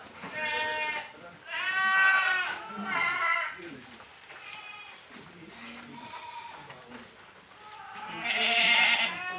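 Saanen dairy goats on a village milk farm bleat repeatedly, several drawn-out, wavering calls following one another at moderate distance, with the loudest cry near the end.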